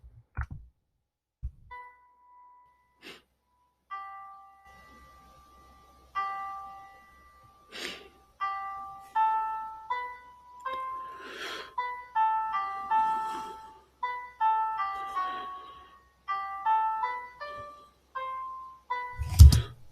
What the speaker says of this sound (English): these are the two melodies that I started coming up with.